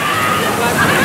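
Log flume water ride at Knoebels amusement park splashing down after its big drop, a loud continuous sloshing wash of water filling the whole moment, with crowd babble mixed underneath.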